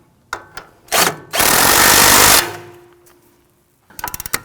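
Close and loud, a power tool runs for about one second to tighten a sway bar end link on a 2001-2009 Volvo S60, surrounded by short clicks and clanks of handling.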